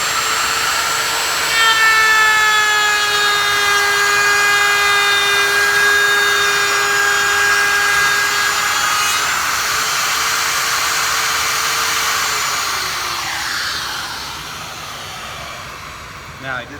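A woodworking router with a bearing-guided trim bit on an end table edge, a loud sustained high-pitched motor whine that shifts in pitch under load, then spins down near the end.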